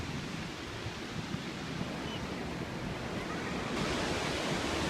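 Ocean surf rolls in as a steady, broad wash at a beach campsite at South Carlsbad State Beach in California, with some wind, continuous and fairly loud.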